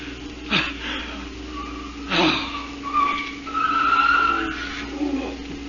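A car skids in a radio drama sound effect, with several screeching tire squeals over a steady engine hum, loud and close, with no voices.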